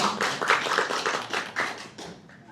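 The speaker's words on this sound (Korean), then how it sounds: "우리 큰 박수로 환영하겠습니다" A church congregation at a Japanese-language worship service applauds to welcome a missionary, a full round of many hands clapping that gradually thins and fades out.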